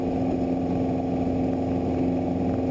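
Light aircraft engine at full power, a steady loud drone with a strong constant tone, continuous throughout with no talk.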